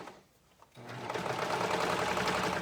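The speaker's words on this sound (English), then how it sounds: "so we are going to finish sewing the sleeve in" A sewing machine stitching a sleeve into a garment, starting after a short quiet pause into a fast, steady, close mechanical whir and chatter that runs to the end.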